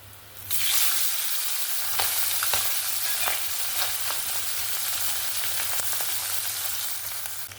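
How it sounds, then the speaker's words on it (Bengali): Tangra catfish frying in hot oil, a steady close sizzle with scattered pops and crackles running continuously from just after the start. "এবার আমি বাদ বাকি মাছগুলো সেমভাবে ভেজে নেব।"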